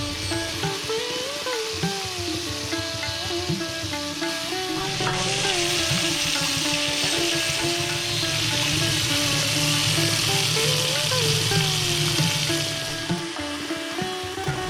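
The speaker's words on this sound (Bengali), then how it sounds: "এক এক করে ননস্টিক কড়াইয়ে মাছের পিসগুলো দিতে থাকলাম" Hilsa fish pieces fry in a nonstick pan with a continuous loud sizzle and crackle that rises as more pieces go in, mixed with background hum and a few soft knocks.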